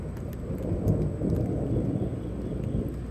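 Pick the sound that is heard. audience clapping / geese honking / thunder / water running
thunder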